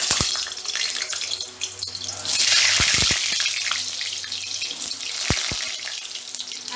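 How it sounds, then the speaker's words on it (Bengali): Potato pieces dropped one at a time into a hot wok of oil, each landing with a sharp knock before a rushing, watery sizzle swells and then settles. "এবার একটা একটা করে আলু দিয়ে দিলাম।"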